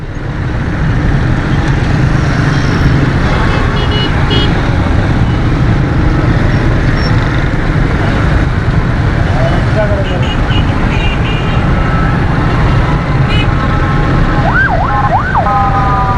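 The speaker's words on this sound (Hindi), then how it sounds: "ऊपर ट्रैफिक जाम है जो कि शारा फैसल की तरफ आ रहा है" Heavy evening rush-hour traffic on Shahrah-e-Faisal in Karachi, a steady loud roar of engines with rising and falling horns and siren-like wails cutting through near the end, under a continuous road-noise bed.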